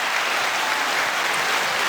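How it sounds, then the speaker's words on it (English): A crowd claps steadily for about two seconds, a dense, even applause up close with no voices over it. "Let's get 2 more seconds of the clap."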